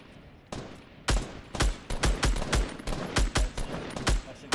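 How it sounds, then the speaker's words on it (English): Gunfire crackles in a shooter video game, a quick irregular burst of sharp, loud shots spread across a few seconds over a low background hum, with no talking. "He's shooting at me."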